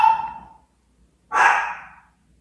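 A dog gives two separate barks in a quiet room, the first sharp and fading, the second a louder, longer bark about a second later.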